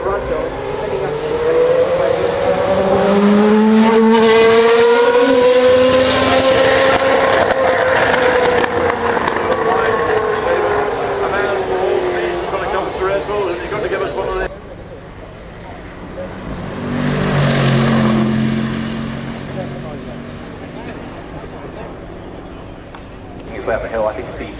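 Ferrari SF90 XX Spider driving past at the Goodwood Festival of Speed, its engine rising and fading in a long sweep, then a second quieter pass, heard under continuous commentary.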